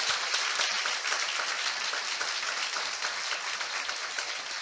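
A church congregation applauds during a Hindi sermon, a loud, dense and continuous burst of clapping that holds steady from start to finish.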